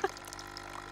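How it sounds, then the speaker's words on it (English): Coffee pours and spills in an office, a close liquid splashing and trickling with a small clunk at the start, continuing steadily for about a second. "My coffee's pouring all over the place!"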